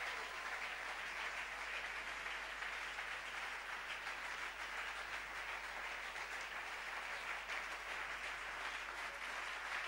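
A church congregation applauding at a healing service, with sustained dense clapping at a moderate distance that holds steady without pause, no voices standing out over it.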